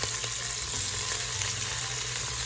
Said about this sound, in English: now I'm gonna start adding in our peppers and onions